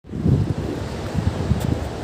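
Ocean waves wash onto a beach at Tithal in Valsad, a steady surf roar with a few soft swells and some wind buffeting the microphone. Nobody speaks.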